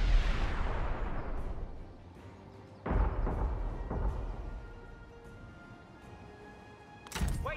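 Artillery fire in Total War: Three Kingdoms: a sustained opening boom decays into rumble, then a second heavy blast near three seconds and a lighter one after, with a sharp crack at the end over battlefield ambience.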